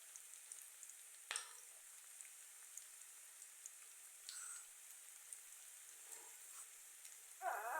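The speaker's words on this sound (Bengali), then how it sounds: "তো পেঁয়াজ আর রসুনটা সুন্দর করে ভাজা হয়ে গেছে" Onion and garlic frying in a pan, a quiet, even sizzle with scattered soft crackles and a couple of brief louder clatters, with no voices.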